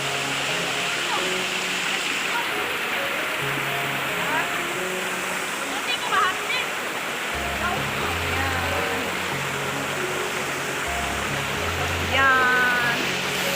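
Pampam Falls, one of the Seven Falls of Dalipuga, pours as a constant, full rush of falling water close by, while people chat over the roar.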